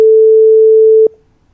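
A single long phone ringing tone sounds clean and loud for about a second while a call to a friend connects, then cuts off abruptly into near silence.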